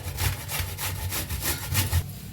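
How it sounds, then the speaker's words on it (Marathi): Carrots rubbed against a hand grater for carrot halwa, a rapid rhythmic rasping of strokes repeating about twice a second, close and fairly loud with no talking. "हे घेतले बघा किसणी घेतले किसणी ना किसूया"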